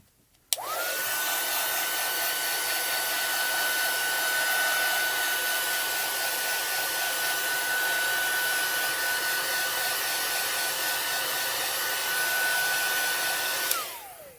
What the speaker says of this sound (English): I'm going to bring in my heat tool and just heat set that real quick